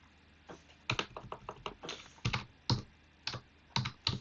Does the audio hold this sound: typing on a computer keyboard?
yes